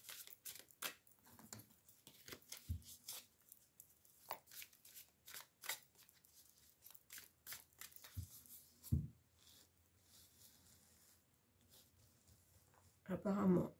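Oracle cards shuffled and drawn in soft, quick riffles and taps, close and fairly quiet, with a few sharper slaps and brief pauses between bursts.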